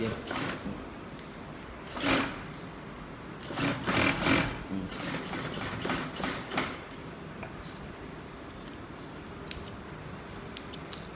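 A sewing machine stitching the flapped back pocket of a pair of trousers: short whirring runs of stitching, with the longest bursts near the start and middle, separated by quiet handling pauses, close and moderate in level.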